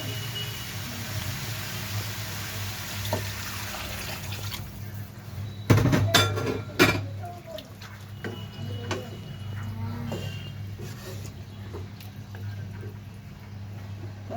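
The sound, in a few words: water added to frying cauliflower in a pan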